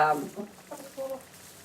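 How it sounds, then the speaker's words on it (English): Chickens cluck inside a coop holding about thirty birds, a few short, close clucks and murmurs spaced across a quiet moment. "even though there are 30 chickens in here"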